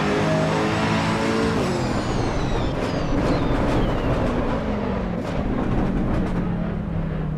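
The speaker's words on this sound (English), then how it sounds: "you hear a lot of stuff going on when you hit the brakes" A race car in the sim game Assetto Corsa Evo brakes hard into a corner, engine note dropping in steady downshifting sweeps under a continuous roar of tyre and road noise, loud and close throughout.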